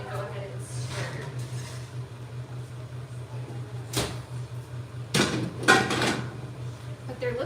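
Vegetables stirred in a pan in a home kitchen, with a few short metallic clatters and scrapes over a steady low appliance hum, mostly near and moderately loud, with faint voices in the background.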